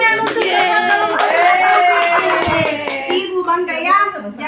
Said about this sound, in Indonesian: Oke, tepuk tangan untuk kelompok